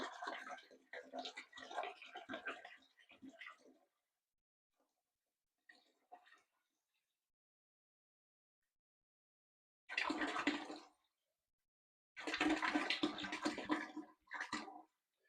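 A gallon of water poured into a 5-gallon bucket for a 50-50 vinegar flush of a tankless hot water heater: a few separate bursts of splashing, gurgling pour, close and fairly quiet, with silent gaps between them.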